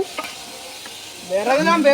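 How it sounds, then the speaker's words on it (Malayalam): Ingredients sizzle softly in a pan for a Lakshadweep-style roast, with a quiet frying hiss and faint stirring taps; a voice comes in over the sizzle during the second half. "ഇവിടെ ഇത് കുറച്ച് വറുത്തോണ്ടിരിക്കുകയാണ്"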